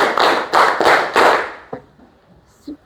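Students in a classroom clap in a counted round: four quick, loud bursts of group hand claps, then a faint tap and near silence with a brief voice at the end.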